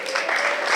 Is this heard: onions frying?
no